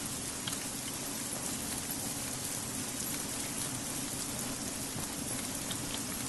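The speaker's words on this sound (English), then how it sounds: "this rain, man. It's heavy. It is pretty damn heavy." Heavy rain in a video game pours down in a dense, constant hiss, steady and even for the whole stretch with no voices.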